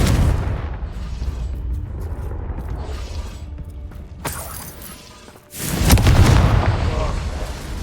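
Spell-blast explosions and booming combat effects from Hogwarts Legacy, loud and continuous, with sharp bursts and a heavy rumbling surge near the end, dense game sound throughout.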